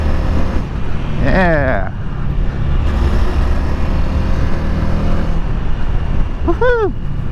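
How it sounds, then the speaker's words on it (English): A Honda Rebel 300 motorcycle engine rises and falls in pitch as the rider rips the throttle twice, the revs sweeping up over steady wind roar, with a rider speaking briefly. "I just like ripping on the throttle like this, guys"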